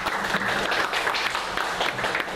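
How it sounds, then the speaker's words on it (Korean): An audience at a Seoul forum on a startup support ordinance applauds after a presentation, with brisk, continuous clapping from many hands that holds at an even level throughout. "발표에 큰 박수 부탁드리겠습니다."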